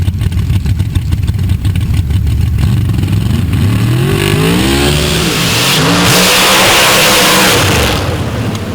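A 1965 Chevrolet race car and others roar on a dirt track at Steelville, engines loud and close, revving and accelerating past as the pitch climbs and sweeps.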